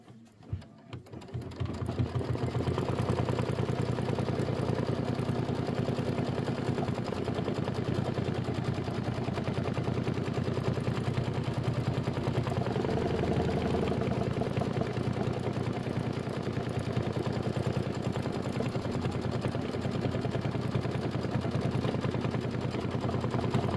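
An embroidery machine stitching a Kimberbell nativity bench pillow block, starting up and then running in a steady, dense, rapid mechanical chatter that holds at an even loudness throughout, close by with no talking.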